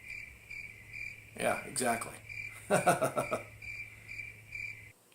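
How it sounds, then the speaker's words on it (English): Crickets chirp in a steady pulsing trill while someone speaks briefly over it, the chirping cutting off abruptly at the end. "Do I hear crickets chirping?"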